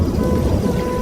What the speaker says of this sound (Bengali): চারিদিকে অন্ধকার আর ঝিরিঝিরি বৃষ্টি।